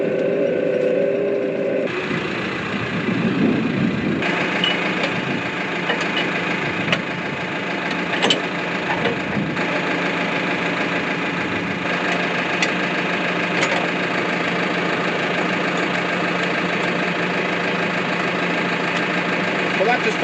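A diesel tractor engine idles steadily at close range, giving a continuous low rumble with a faint knocking pulse that never changes much.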